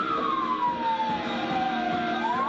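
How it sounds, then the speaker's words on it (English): A loud wailing police car siren sweeps slowly down and back up in pitch over steady traffic rumble during a chase, close by and continuous. "Turn the sirens off!"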